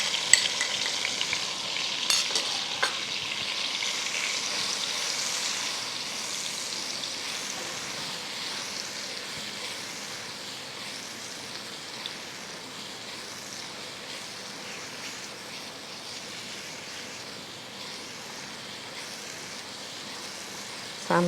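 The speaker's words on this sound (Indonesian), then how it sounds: "Panaskan sedikit minyak untuk menumis ya. Kita tumis bumbu halus terlebih dahulu." Ground spice paste sautés in a little hot oil in a pan, a steady, close, hissing sizzle that carries on unbroken for about twenty seconds with no voices.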